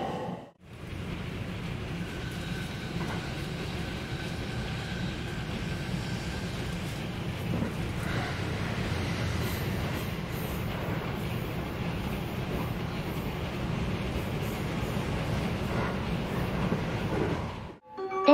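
A Hanwa Line rapid train departs Higashi-Kishiwada station, heard from onboard as a steady, low rumble of wheels and rail noise that carries on evenly for the whole stretch.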